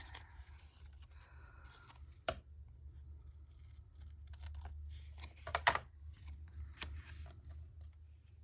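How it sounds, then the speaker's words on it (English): Scissors snip through the overhanging edge of a paper bookmark, a few sharp crisp cuts amid quiet paper handling and rustling, close and fairly soft. "And cut the overhang there."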